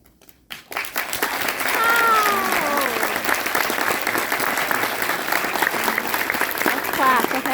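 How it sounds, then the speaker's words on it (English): An audience at a keynote speech on disability policy breaks into sustained, dense applause after a short silence and keeps clapping steadily, with faint voices and a brief cheer mixed into the crowd noise. "Big clap."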